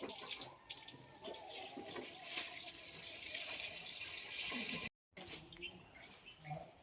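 Water hisses and splashes steadily from a hose onto freshly spread soil for several seconds, with a brief dropout before it resumes more unevenly.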